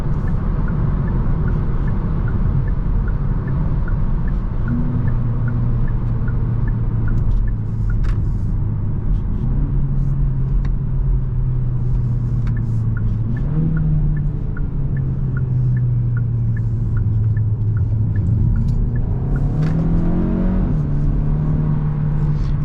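A 2024 Hyundai Elantra N Line accelerates on a highway, its engine drone climbing in pitch and dropping back at each gear change over constant road rumble inside the cabin, with no talking.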